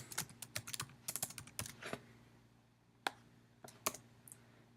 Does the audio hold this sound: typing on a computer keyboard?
yes